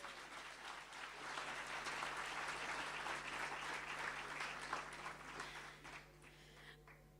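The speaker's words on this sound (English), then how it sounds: "Can we give them another round of applause?" An audience at a World Day of Safety and Health event in the Free State gives a steady round of applause. The clapping is dense and moderately loud, holds for several seconds, then thins out and fades near the end.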